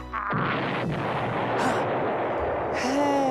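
Cartoon-style explosion sound effects: a loud booming burst right at the start, a quick whooshing crack in the middle, and a second pop near the end, over a sustained rumbling blast.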